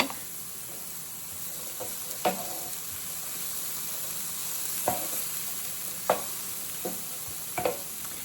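Vegetables for fried rice fry in a pan with a soft, continuous sizzle, punctuated by occasional clicks and taps of stirring.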